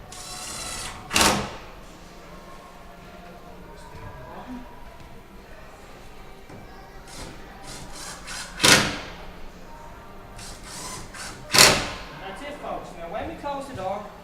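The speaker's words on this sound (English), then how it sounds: "Close the door" Wooden door being closed after new hinges are fitted, giving three sharp thuds spread apart at close range, with faint rustling and low room noise between them.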